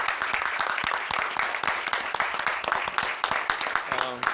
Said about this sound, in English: Again, let's give applause to these guys.